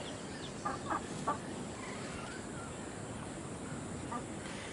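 A few faint, short clucks from native chickens, clustered early and once more near the end, over steady outdoor background noise.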